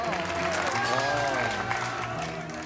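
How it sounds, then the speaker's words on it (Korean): Studio audience applause on a variety show filmed at an army unit, sustained crowd clapping blended with voices and background music tones throughout. "박수 한번 보내주세요."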